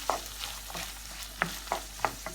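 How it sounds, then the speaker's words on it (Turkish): Spoon scraping and stirring green peppers into sizzling minced meat in a pan, a few sharp scrapes over a steady low frying hiss. "Biberleri de şöyle karıştıralım."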